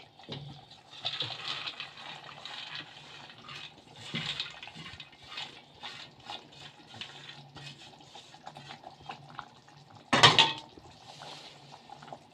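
Cooked, drained pasta tipped into tomato sauce in a pan, with soft clattering of metal cookware and utensils, wet stirring and scraping over several seconds, and one louder clang partway through.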